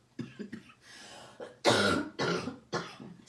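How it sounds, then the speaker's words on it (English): A woman coughs several times during a live craft session, a few small soft coughs followed by three louder, harsher bursts spaced about half a second apart, close to the mic. "Excuse me, coughing."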